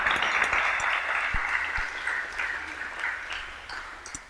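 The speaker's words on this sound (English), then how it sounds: "A round of applause for both of these fine organizations." Steady applause from an audience at an evening awards event, a continuous wash of clapping at moderate distance that holds for the whole stretch with no talk over it.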